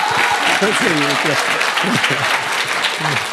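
A studio audience at a public debate on education, where people question a BJP spokesperson, breaks into dense, steady applause that fills the whole stretch while voices talk loudly over it.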